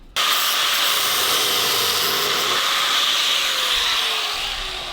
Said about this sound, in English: Grind that off.